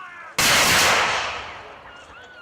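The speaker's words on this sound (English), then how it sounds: "firing cannons from the shore" A single loud cannon blast fired from a shore at a Civil War re-enactment, close and sudden, its boom rolling off into a long fading echo.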